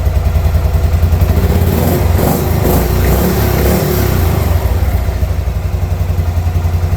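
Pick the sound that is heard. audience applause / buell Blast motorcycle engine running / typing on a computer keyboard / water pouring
buell Blast motorcycle engine running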